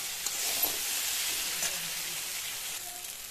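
Spices and vegetables (potato and eggplant with dried fish) frying in a pan while being stirred, a steady close sizzle with soft scraping, no voices.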